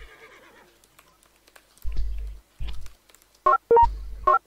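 A horse in a video game gives short whinnying bursts and thudding low hoof or movement sounds, scattered across a quiet stretch with no talking.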